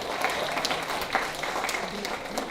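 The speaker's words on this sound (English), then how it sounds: "One more round of applause for Dr." An audience at a school achievement day ceremony claps in sustained applause, a dense even patter of many hands throughout with no pause.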